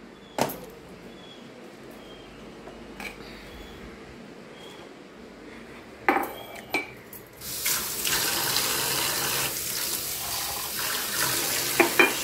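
Water runs from a kitchen tap in a home. A quiet room with a few clinks gives way to a loud, steady, close rush of flowing water that lasts to the end.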